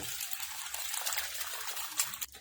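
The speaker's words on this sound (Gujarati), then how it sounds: "હવે આપણે એને પલાળી દઈશું પાણી એડ કરીને" Water poured over washed lentils to soak them, a soft, close trickling pour lasting a couple of seconds before it stops abruptly.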